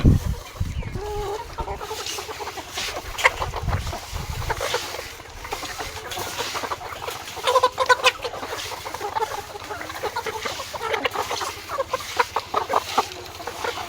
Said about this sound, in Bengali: 4টা করে মুরগি আছে।